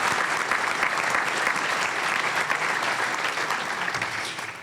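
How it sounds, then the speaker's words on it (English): An audience at a journalism celebration event held by the Capital Times applauds, a loud, dense and sustained burst of clapping from many hands that tapers slightly near the end. "So how about some applause for that?"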